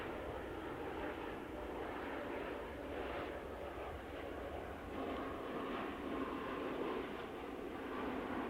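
An airplane at an airport rumbles in a steady, faint, distant drone on a breezy, cool morning, its engine noise holding throughout with no talk.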